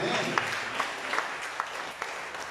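Congregation at a Spanish-language church service applauding, a brief burst of many hands clapping with a few sharper claps standing out, fairly close, while a voice speaks over it.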